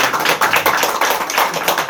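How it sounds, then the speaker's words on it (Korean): A church congregation at a 14th-anniversary worship service bursts into applause during a sermon, with a short, steady run of close, rhythmic clapping. "말씀 전하는데 박수가 터져 나오는 교회가 많지 않은데"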